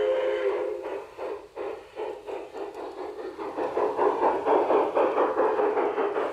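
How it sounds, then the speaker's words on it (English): A small model garden train chuffs rhythmically outdoors, its puffing beats growing louder and quicker as it gets underway, with a whistle-like tone at the start. "All we gotta do is start up that train."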